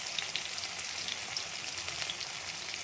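Garlic and chili frying in oil, a steady, dense sizzle with fine crackling pops throughout, close and even, with no voices.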